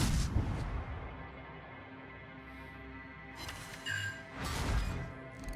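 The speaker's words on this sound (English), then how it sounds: "those torpedoes and everything together, that was a nice little hit there" In a World of Warships-style naval battle with the Nürnberg '44, torpedoes strike an enemy ship in a few heavy booming impacts, with crashing bursts spaced across a continuous battle rumble.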